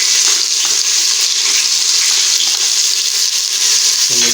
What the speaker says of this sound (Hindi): प्याज गोल्डन ब्राउन हो चुके हैं, तो अभी हम इसमें लहसुन अदरक का पेस्ट डाल देते हैं।